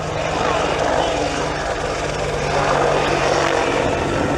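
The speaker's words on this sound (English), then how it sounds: "The AH-64 is the Army's primary attack helicopter that would replace the older AH-1F Cobra." AH-64 Apache attack helicopter flying during an Army demonstration at Fort Sill, a steady loud rotor and engine roar filling the whole clip, close and continuous.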